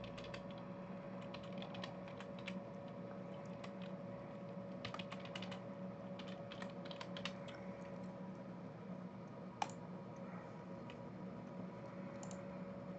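Keystrokes entering a new password at a computer keyboard, a fairly faint, irregular patter of light clicks over a steady low hum, with one sharper click near the end.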